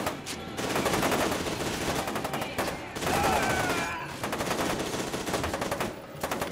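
Sustained automatic gunfire from the shooter game F.E.A.R. 2, loud and continuous across several bursts with brief gaps, with other game sounds mixed in.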